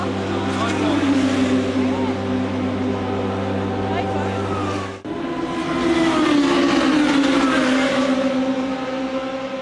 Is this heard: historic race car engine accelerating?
yes